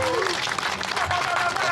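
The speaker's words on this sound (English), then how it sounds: "Let's give them a big round of applause." Audience at a drift event applauding, a dense steady wash of clapping and crowd noise filling the short moment, with an announcer's voice running over it.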